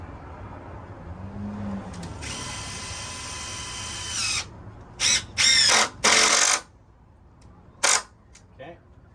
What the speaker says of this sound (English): we're going to go ahead and run our first screw in here